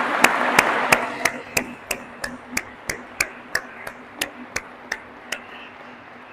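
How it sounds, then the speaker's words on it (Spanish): Wedding guests clap for the newlyweds in a steady, unison rhythm. About sixteen sharp, evenly spaced claps ring out close and clear, fading slightly toward the end, with no talking. "vamos a darles un aplauso"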